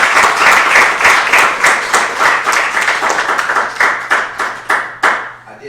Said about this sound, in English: everybody, give each other a round of applause.